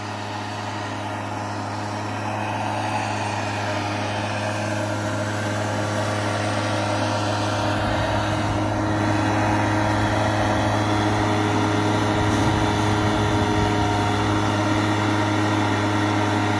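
Homemade ramjet engine, built in a garage, firing at a live outdoor demonstration event: a loud, steady roar with a deep droning hum that holds unbroken for the whole stretch, with no voices.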